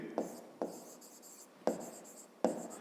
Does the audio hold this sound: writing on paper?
yes